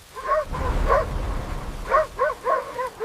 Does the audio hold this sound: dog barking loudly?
yes